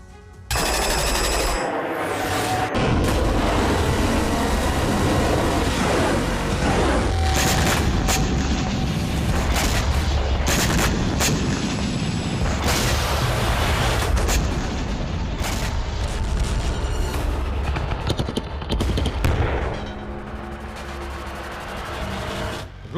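Loud, continuous barrage of booming bomb blasts and rapid gunfire-like bursts on the Ukraine–Russia border, dense and chaotic, with a high ringing tone at the start.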